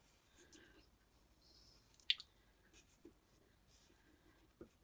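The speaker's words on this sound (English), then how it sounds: "I'm going to take an orange and a brown colored pencil, and I am just going to go in between the lines here" Orange and brown colored pencils shade between lines on paper in a junk journal tag, soft scratchy strokes coming in faint bursts with a few light taps, very quiet and close.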